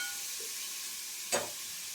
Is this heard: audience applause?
no